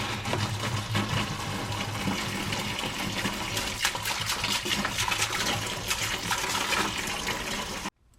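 Coolant pours steadily out of a Range Rover P38 radiator, a continuous, fairly loud liquid rush with no talk, stopping abruptly near the end.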